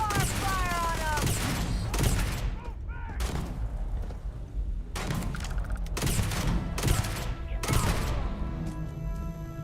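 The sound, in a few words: rapid multi-nail-gun-like weapon firing in video game Starfield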